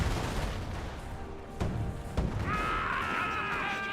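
Gunfire from a Greyhound armored car without armor skirts in the World War II strategy game Company of Heroes, two sharp close shots over a rumbling battle din, followed by a rising whining tone.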